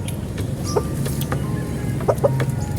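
A three-year-old chicken clucks softly and intermittently close by, a few short clucks scattered over steady outdoor background noise.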